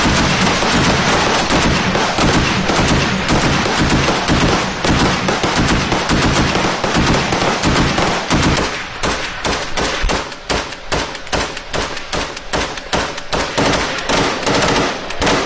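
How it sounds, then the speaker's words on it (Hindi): Heavy gunfire at the Bakhmut war front in the Russia-Ukraine war: dense, loud bursts of rifle and machine-gun shots, continuous at first, then breaking into rapid separate cracks and short volleys, with no voices. "जमीन पर जबरदस्त गोलीबारी करते नजर आए यूक्रेनी जवान"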